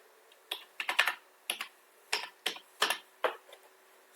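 Fingers tap out a voter ID on a computer keyboard in short, uneven bursts of crisp clicks, close and clear against near silence, while an online enumeration form is being filled in.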